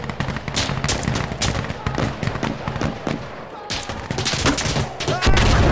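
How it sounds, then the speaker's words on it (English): Grenade blast in a shooter game, a dense burst of explosive cracks and rapid gunfire, loud and close, with a heavy low boom near the end. "Got a grenade for ya."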